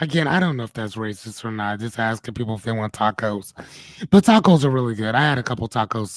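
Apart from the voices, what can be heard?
No everyday noises stand out.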